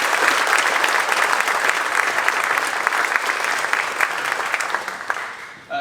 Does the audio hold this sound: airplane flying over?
no